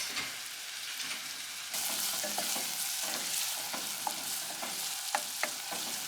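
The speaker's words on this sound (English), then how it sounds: "Start off with melting our butter and adding our onions to that and garlic this time." Onions and garlic fry and sizzle in melted butter over medium heat, a steady close crackle with occasional stirring scrapes and clicks, no voices.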